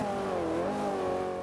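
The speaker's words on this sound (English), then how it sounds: "So when you do blip the throttle" McLaren P1 engine in Forza 5 revving from a throttle blip, a steady, close, loud harmonic howl that swells and dips slightly in pitch.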